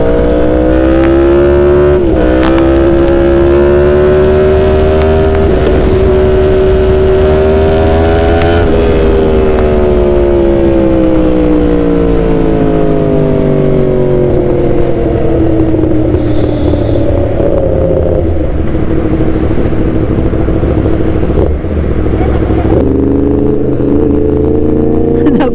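A Yamaha MT-10 crossplane inline-four motorcycle engine revs loudly and up close for a long stretch, its pitch climbing, holding and sliding back down in repeated sweeps, with a few sharp throttle blips near the end and a voice faintly underneath.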